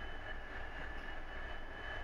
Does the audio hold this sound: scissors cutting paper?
no